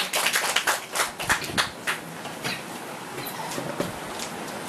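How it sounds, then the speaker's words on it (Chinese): Scattered audience clapping at a Taipei reading-group lecture evening, a patchy, moderately quiet burst of hand claps with uneven rhythm that thins out toward the end. "那我们现在就热烈掌声欢迎他们两位"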